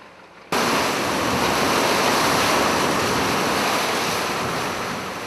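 Rough sea waves and strong wind batter a fishing boat out at sea, a loud, continuous roar of surf and wind buffeting that starts abruptly and holds steady without any talk.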